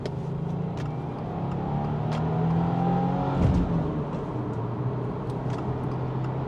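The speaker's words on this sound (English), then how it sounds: "Let me show you the acceleration." A Subaru WRX tS engine of over 250 horsepower builds steadily as the car accelerates up a highway on-ramp, a rising whir with road noise and rushing wind throughout, no talking.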